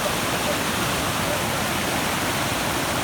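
A river rushes over a waterfall, a steady loud roar of white water with no breaks, close by and filling the whole scene.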